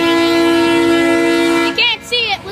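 A passing Norfolk Southern intermodal freight train sounds its horn in a loud, sustained blast, then cuts off into brief short bursts with a voice speaking near the end.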